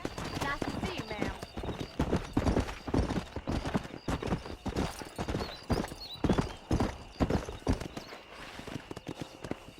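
Horse hooves clip-clop at a riding pace in the Red Dead Redemption video game, a steady close rhythm running throughout with an occasional whinny, while characters talk over it.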